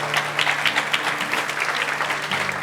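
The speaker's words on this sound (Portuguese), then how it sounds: "dê uma forte salva de palmas ao Senhor" A church congregation claps together in sustained, dense applause for the full stretch, steady and fairly loud with no voices standing out.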